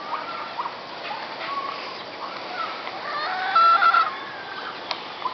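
Chickens and pullets in a gamefarm breeding pen cluck and call in a quiet outdoor setting, with one brief louder squawk near the middle.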